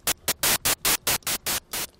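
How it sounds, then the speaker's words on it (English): White noise hiss from the Massive synthesizer fired in short, evenly spaced bursts, about nine quick hits in a steady rhythm, bright and close. "You can either choose the white noise, sounds like this"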